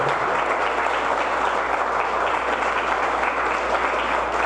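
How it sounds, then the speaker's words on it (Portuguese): A church congregation claps loudly and continuously during a service on spiritual battle in the family, producing a dense, unbroken roar of applause at a constant high level. "Quem crê dá glória e aplauda Jesus bem forte."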